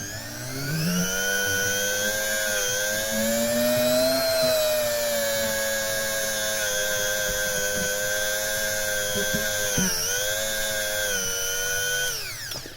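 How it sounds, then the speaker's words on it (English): A handheld rotary tool spins a felt polishing disc against guitar frets, chamfering the fret ends: a steady, loud high-pitched whine with bright harmonics that bends slightly in pitch as load changes, running continuously for about twelve seconds with no talking. "you run the felt disc just over the edge, just to do the chamfer on it"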